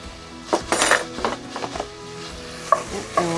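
Chicken cutlets being stirred in a frying pan: clinks and scrapes of a utensil against the pan rise over a soft sizzle.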